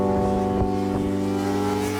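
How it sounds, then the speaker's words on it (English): A 2021 Honda CBR650R four-cylinder motorcycle engine hums steadily nearby with a smooth, even exhaust drone and a couple of faint blips, no voices. "this sounds like a proper 4-cylinder motorcycle now"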